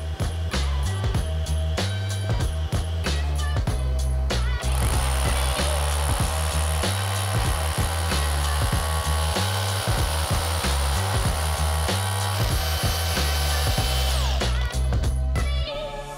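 A Bosch Professional 18V cordless hammer drill with dust extraction runs continuously and loudly for the whole stretch, with a rhythmic, grinding pulse as it bores into a wall.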